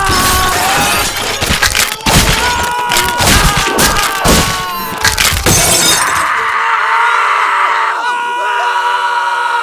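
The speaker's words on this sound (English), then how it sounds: "So just find a place you know they'll rush into, and just throw the grenade." A Lego grenade in Counter-Strike goes off with a loud crunching, shattering burst layered with crashing and crowd-like screams, then a sustained high ringing tone that lingers afterward.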